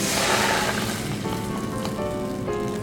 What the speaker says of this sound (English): Now I add the white wine.